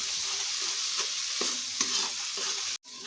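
Masala for stuffed potol curry stir-fries in a pan with a little water, giving a constant gentle sizzle and rhythmic spatula scrapes, cut off abruptly near the end.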